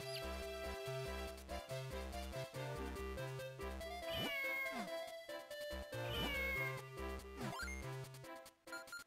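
A cartoonish cat meows twice in The Legend of Zelda: Minish Cap, rising swoops cutting through the game's steady chiptune background music.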